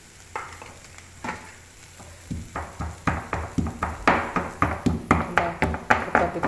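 Cumin and garlic sizzle in hot oil for a Boda Kakarakaya curry. A faint fry is soon joined by a rhythmic run of spoon scrapes and taps that grows steadily louder.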